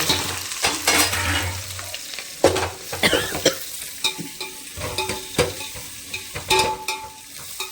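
Onions, green chillies and garlic, with dried red chillies, fry in hot oil in a pan as the base for a drumstick pulusu, giving a steady close crackling sizzle broken by repeated spatula scrapes and knocks against the pan.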